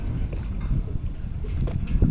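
Low, steady wind of about 12 knots rumbles and buffets the microphone by a scaffolding tower, a continuous blustery roar with no voices.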